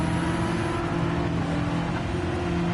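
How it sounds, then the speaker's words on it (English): A race car in a racing video game roars at a constant loud engine drone, tires and brakes blended into the steady mechanical noise with no clear separate squeal, no voices. "You can hear the tires."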